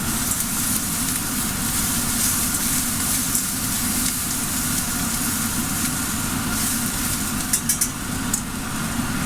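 Onions frying in a pan make a steady, dense sizzle that runs evenly throughout, close and fairly loud, with a few brief sharper crackles near the end.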